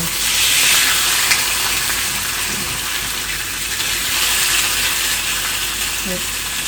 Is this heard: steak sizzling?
yes